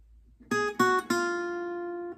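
Guitar plucking the first run of a song's riff: three close, clear notes in quick succession, the last one left ringing and slowly fading, with no voices.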